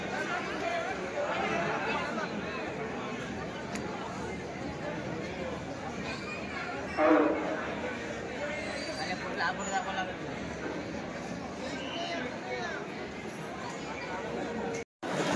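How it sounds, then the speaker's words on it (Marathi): Dense crowd of devotees chattering at Ekvira temple in Karla, near Lonavala, a steady wash of overlapping voices throughout with a brief louder burst midway and a sudden drop near the end. "10 वाजलेत तरी बघा भक्तांनी कसली गर्दी केली इकडे."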